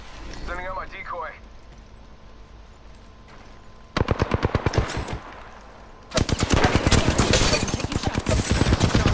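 Rapid automatic gunfire from Apex Legends rattles in two long bursts, close and loud, after a brief spoken line and quieter game sounds.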